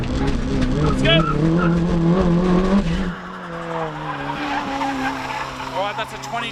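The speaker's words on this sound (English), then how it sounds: "Oh, that's all four-wheel sliding" A Nissan 180SX sliding on all four wheels around a track, tires squealing loudly and wavering in pitch over the engine, then easing into a lower steady squeal, with a voice speaking over it.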